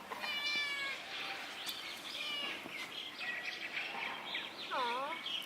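A street cat meowing repeatedly in short, rising-and-falling calls, faint and somewhat distant, with a child's and adult's voices nearby.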